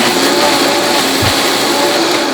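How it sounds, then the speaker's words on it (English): A Vitamix blender runs at full power blending quinoa bread batter, a loud steady whirring roar without a break, close up, with a faint thump partway through. "We have our Vitamix blender here,"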